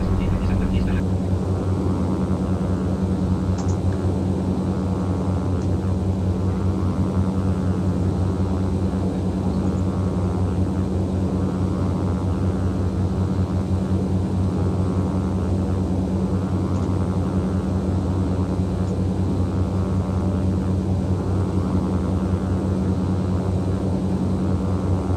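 Dash 8 Q400 turboprop airliner descending in Microsoft Flight Simulator X, a steady loud propeller drone with low humming tones running continuously and unchanging throughout.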